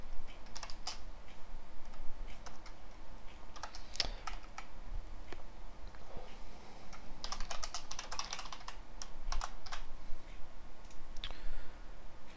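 Steady computer-keyboard typing while code is entered, a continuous run of quick, close clicking keystrokes with brief pauses, no talking.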